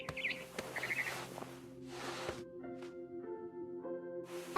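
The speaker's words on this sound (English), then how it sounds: "Then I heard chirping outside my window. It was a barn swallow going back to her nest." Barn swallow chirps in the video game What Remains of Edith Finch, short bright chirp bursts near the start over a steady game ambience with soft tonal music.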